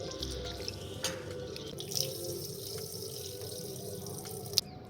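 Lentils and rice being washed and rubbed by hand in water, giving a steady close wash of sloshing and trickling with a few small splashes and drips throughout.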